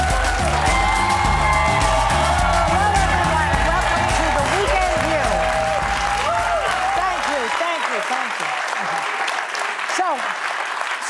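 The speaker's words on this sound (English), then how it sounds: "Why did I clap for myself?" Studio audience clapping on a weekend TV talk show, sustained loud applause with some cheering, underneath music and talk.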